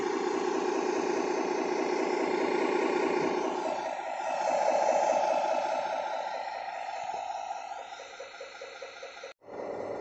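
A 1:12 scale RC Hino 4x2 dump truck runs its simulated engine sound at idle, a steady mid-pitched hum that carries on for about nine seconds, then cuts off abruptly near the end with no one talking.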